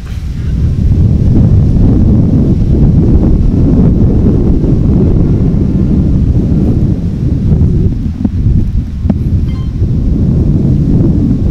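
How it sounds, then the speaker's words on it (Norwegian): Outdoor wind buffets the microphone during a drive, producing a loud, continuous low rumble that barely lets up, with brief dips near the end and no speech. "Nå beklager jeg for det blåser litt her"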